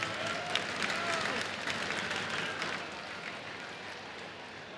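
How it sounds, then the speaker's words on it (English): Crowd applause at Rajadamnern Stadium before the last Muay Thai fight of the evening, a continuous dense clapping wash, distant and fairly faint. "Very vibrant crowd tonight here at Rajadamnern Stadium for our last fight of the evening."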